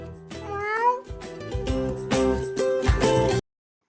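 A cat meows in several drawn-out, rising calls, loud and close, before the sound cuts off abruptly.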